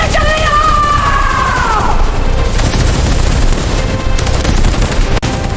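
Dramatic gunfire in a bandit revenge drama set in the Chambal, loud bursts and booms over tense musical tones, with shouting and speech mixed in.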